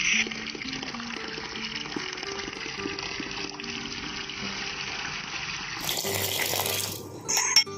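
Tap water runs steadily into a vessel while rice is set to soak, a continuous close splashing flow that shifts brighter and fuller near the end.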